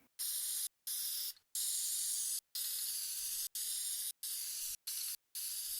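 Bursts of spray paint hissing from a can, about eight sharp sprays separated by short silent pauses, close and fairly loud.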